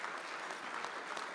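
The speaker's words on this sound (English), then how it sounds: "Give yourselves a round of applause for showing up tonight" A room of guests at a Junior Achievement charity evening breaks into applause, a soft, steady wash of many hands clapping at a distance, with no voices on top.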